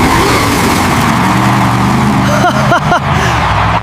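Engines roar loudly and continuously at a monster truck event, revving up and down with a few quick pitch swoops, close and dense with no pauses.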